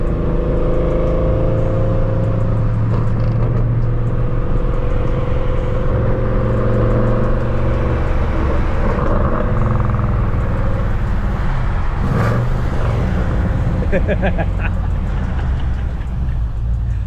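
Dodge Challenger Widebody Scat Pack engine in normal mode, a steady loud low rumble with a brief rev swell near the end, heard from inside the car at night.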